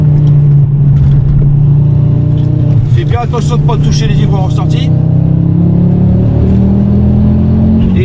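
A Ford Focus RS drives on the Le Mans circuit, its engine note loud and close and rising under acceleration across the stretch, while someone speaks French in the middle.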